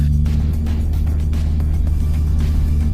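A Toyota GR86 Yuzu Edition on a track holds a steady, loud low engine drone throughout, with a constant rumbling hum and no speech.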